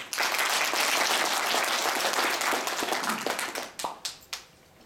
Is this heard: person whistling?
no